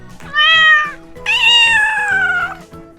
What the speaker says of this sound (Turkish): Ama kediciyi tekrardan sevebiliriz.